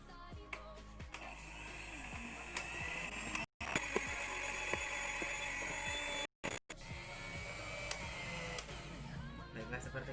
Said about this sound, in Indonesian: Seperti ini belum, berarti kita mixer kembali.